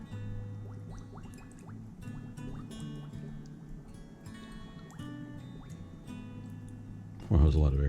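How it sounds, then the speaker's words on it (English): Air bubbles escaping from a Barbie snow globe submerged in water during repair, a run of small gurgling drips and bubbly pops, faint and close, under a voice, ending in a sudden louder splash. "we're going to pull back on the stopper and let all the air out"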